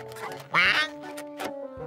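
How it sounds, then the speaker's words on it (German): A cartoon duck gives a short, bright, raspy quack, loud and close, amid softer background sounds and faint voice-like noises. "Eine Ente"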